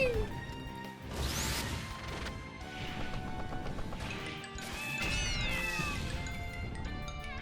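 A cat meows in a video game over busy, dense game sound and music, with occasional crashes and thwacks mixed in, with no pauses.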